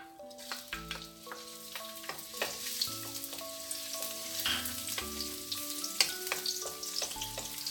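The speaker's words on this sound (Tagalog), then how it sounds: "Isusutay natin yung garlic." Garlic sautéing in cooking oil in a preheated wok for vegetable lumpia, a steady close sizzle running throughout with scattered clinks and stirring knocks, no voices.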